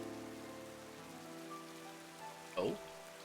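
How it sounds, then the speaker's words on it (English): Rain falls in a Pokémon video game, a steady soft patter of game ambience running throughout, mixed with a sustained musical tone and brief game sound effects. "The rain doesn't help."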